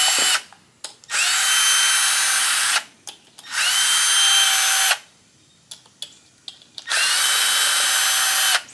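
A power drill backs screws out of a fuel pump housing on a 1978 Malibu Classic's 350 Chevy engine, loud whirring bursts of a couple of seconds each separated by quiet gaps and small clicks.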